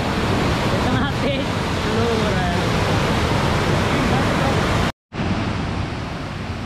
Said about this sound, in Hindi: तो देखो ये है वो वाटरफॉल, ये आगे